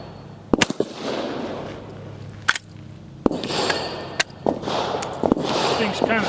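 A Century Arms PW87 lever-action 12-gauge shotgun fired at about 20 yards, several sharp loud reports spaced a second or so apart with echo, among handling noises and a voice talking.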